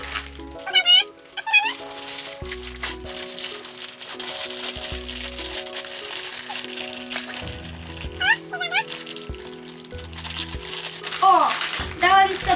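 A SuperZings magazine package with its bundled toys being opened, its wrapper crinkling in short bursts near the mic while a cat meows and someone talks over it.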